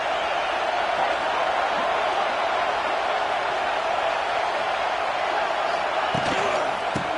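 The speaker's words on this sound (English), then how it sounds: "this crowd is turning it up a notch" A football stadium crowd roars steadily during a game, a dense sustained wash of cheering that holds loud throughout with a few sharp knocks near the end.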